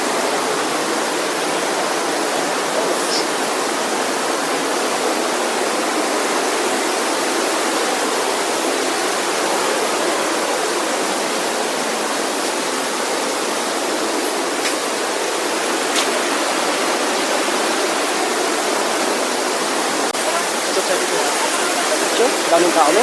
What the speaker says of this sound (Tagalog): May falls pa doon, oh. Maliit.